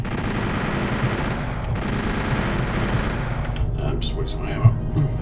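Weapon fire in the video game Doom 64, a steady stream of rapid shots under a continuous dense roar, with one sharper blast near the end; fairly loud and close.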